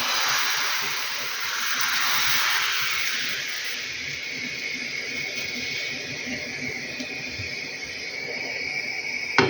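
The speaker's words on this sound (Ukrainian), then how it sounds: "Бачите, млинці гарненько перевертаються, гарненько смажуться." Pancake batter sizzling in a frying pan while cherry and cheese crepes cook, a steady broad hiss that swells and then settles into a continuous fry with no voices.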